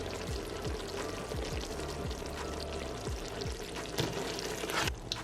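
A fried mixture poured into a pot of simmering collard greens, a continuous wet pouring and bubbling with soft repeated glugs, close and moderate, with no talk.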